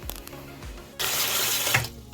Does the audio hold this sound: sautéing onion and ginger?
no